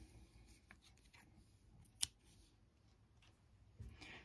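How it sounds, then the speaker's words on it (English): Scissors give one crisp snip through yarn while finishing a crocheted bobble-stitch drawstring bag, a single sharp cut in an otherwise quiet room with faint handling noise. "Now I'm gonna cut the yarn."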